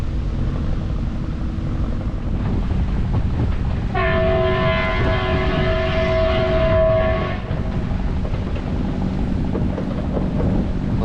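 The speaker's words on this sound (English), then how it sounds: "And there's the train." A train rumbles steadily past on the line by the New Cut on the Norfolk Broads, with a loud sustained horn blast lasting several seconds midway over the continuous rolling noise.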